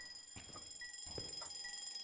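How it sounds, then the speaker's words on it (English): A ghost in the horror game Phasmophobia sets off an alarm clock, a thin steady electronic ringing tone holding throughout over faint room ambience, with a few soft knocks and muffled thumps underneath. "Doing an alarm clock."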